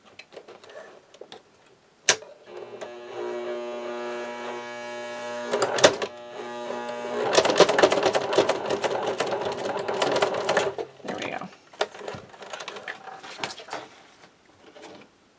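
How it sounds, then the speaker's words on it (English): A sewing machine stitches vinyl for custom keeper pockets, running in two close, steady whirring bursts with a ticking needle rhythm, framed by handling clicks and knocks. "it's really easy for the machine to start skipping stitches because it's really not happy"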